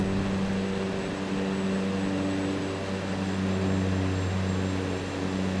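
A propeller aircraft engine in Microsoft Flight Simulator 2024 drones loud and steady with a strong low hum, holding a constant roar throughout with no talk.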